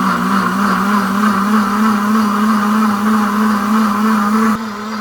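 A deluxe cooking blender runs its self-cleaning cycle, a steady loud motor whir with a strong low hum that holds evenly for several seconds, then drops slightly near the end as the cycle shifts.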